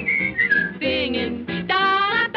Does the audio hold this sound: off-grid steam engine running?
no